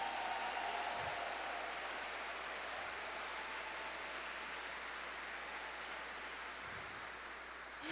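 Applause from a church congregation during a Catholic sermon, a steady, even wash of many hands clapping that holds for about eight seconds, moderately distant and reverberant, with no voices over it.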